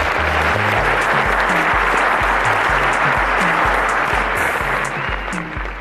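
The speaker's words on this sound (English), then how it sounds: "Ladies and gentlemen, a round of applause for Chiamaka." Studio audience applauding a contestant on the Cowbellpedia quiz show, sustained loud clapping from a full crowd, with rhythmic low musical beats underneath and the applause easing off near the end.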